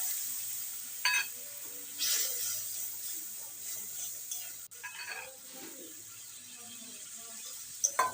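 Water hits a hot pan of frying pabda fish cooked with mustard and poppy seed, bursting into a loud hiss that settles into a bubbling sizzle, with occasional utensil clinks and no voices.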